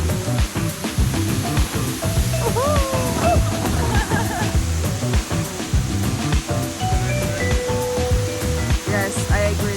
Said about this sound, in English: This tall waterfall is 200 meters high, and it's the second tallest in Indonesia.